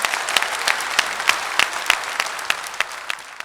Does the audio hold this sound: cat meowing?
no